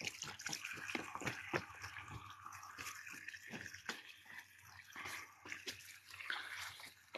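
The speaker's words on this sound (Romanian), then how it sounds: "ficiorul meu pune apă la cățel, pe lângă farfurie." Water being poured out for a dog, spilling beside its dish: faint splashing and trickling at a distance, heard alone with no talk.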